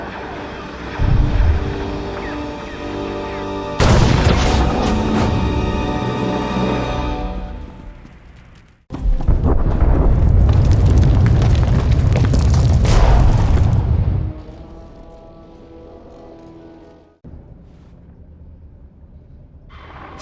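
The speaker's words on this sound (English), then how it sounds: "We've been getting reports of explosions near the holding facility." Explosions at a holding facility in the video game Star Wars: The Old Republic, heard as repeated loud booming blasts with broadband rumble, two big bursts followed by lower, fading rumbles.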